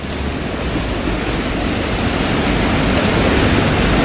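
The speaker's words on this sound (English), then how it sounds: "Man-made waterfalls dating back to the 1840s." Loud, steady rush of a man-made waterfall dating to the 1840s close by in Belfast Waterworks Park, a constant broadband roar with no pauses or voices.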